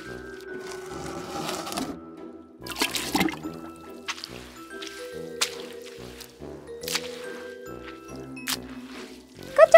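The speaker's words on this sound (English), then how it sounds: "Dunk it in the water, and mop." A small toy mop dunked in water and pushed across a miniature doll-house floor, with wet squishing and dribbling sounds in irregular bursts, fairly close and light.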